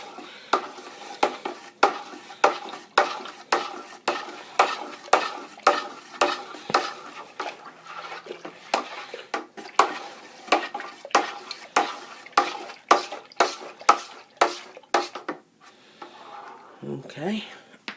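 A spoon stirs wine kit must in a fermenting bucket, knocking and swishing in steady, rhythmic strokes, close and fairly loud, about two per second throughout and then stopping near the end, where a voice briefly speaks.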